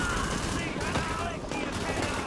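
Gunfire in the shooter video game The Division, with dense rapid bursts and overlapping shots crackling continuously, while voices talk over the combat.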